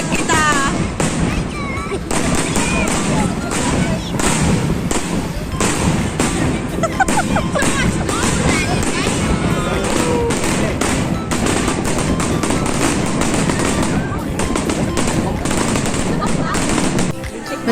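Fireworks at a Fuji City matsuri in Shizuoka, Japan crackle and pop in dense, continuous bursts, with rapid rattling reports and thumps sustained loudly throughout, voices murmuring faintly underneath.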